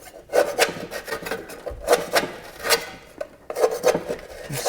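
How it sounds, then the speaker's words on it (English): A scraper rasps caked grass off the underside of a push lawn mower deck in quick repeated strokes, close and fairly loud, with short pauses between bursts. "you're going to want to clean off some of this grass underneath here"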